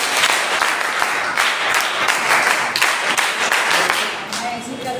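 A large crowd at an outdoor gathering claps loudly and continuously, dense overlapping hand claps sustained for several seconds before easing slightly at the end.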